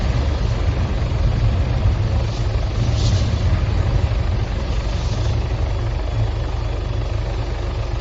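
An Arma 3 helicopter engine drones steadily and loudly during rotary training near a runway, a continuous low rumble with a faint whine above it and no talk.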